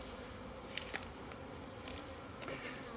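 Honeybees keep up a soft, steady buzz around an opened hive while a frame is lifted out for inspection, with a few brief louder passes close by.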